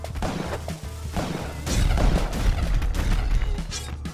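Gunfire from a gun in the Spelunky video game comes as a run of sharp, loud bursting cracks, several shots close together with a denser cluster midway.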